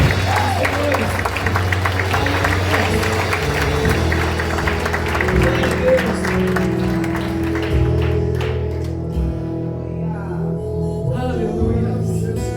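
A church congregation applauds during a worship service, a continuous crowd clapping mixed with loud music playing, the clapping thinning toward the end as the music carries on.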